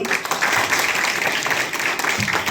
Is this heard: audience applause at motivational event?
yes